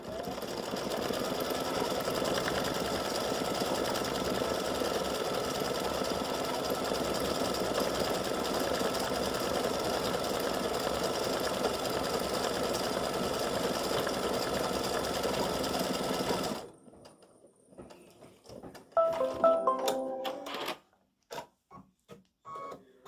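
An embroidery machine stitches a St Patrick's gnome design, working the little curl at the bottom with a steady, fast, continuous mechanical chatter that stops abruptly, followed by a few quieter clicks and handling sounds.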